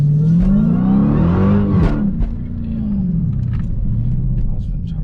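A Dodge SRT Hellcat's engine rumbles and revs in a continuous close, loud drone while the car drifts, with the pitch rising and falling through the clip.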